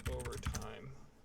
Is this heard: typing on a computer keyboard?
yes